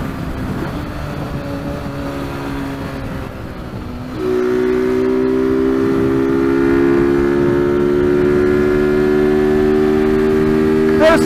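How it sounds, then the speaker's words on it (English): An Apache RTR 200 motorcycle runs at full throttle in 5th gear on a highway. A steady engine drone under wind rush rises in pitch and grows louder after a few seconds, then holds high and constant. "Apache RTR 200, absolutely full throttle,"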